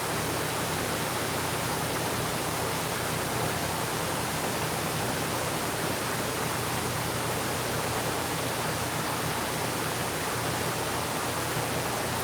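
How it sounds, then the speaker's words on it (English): Steady, dense rush of water pouring into Erie Canal Lock E17, the canal's tallest lock, loud and unbroken like a torrent, with no voices over it. "that's a better view of the water flowing in"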